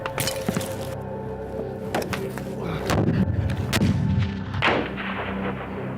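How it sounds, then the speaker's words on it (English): Explosions and bursts of gunfire ring out during a British Grenadier Guards infantry assault, with several sharp, loud impacts, a heavier blast near the middle and rumbling echoes between shots. "Once the grenade's gone off, I'm going to engage that target there."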